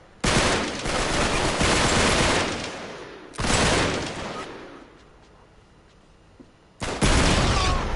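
Heavy gunfire from the Uncharted video game comes in three loud, dense bursts of rapid automatic shots, each lasting a second or two, separated by quieter lulls.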